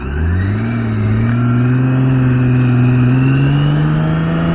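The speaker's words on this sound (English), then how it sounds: "you need to rev it a lot in order for you to actually get the power." A BMW K 1600 B motorcycle engine revs loud and close, its growl climbing steadily in pitch and holding a strong, continuous roar.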